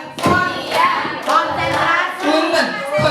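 Schoolchildren in a classroom playing a counted clapping game, several loud rhythmic group claps and thumps in quick sets, with voices chanting between them.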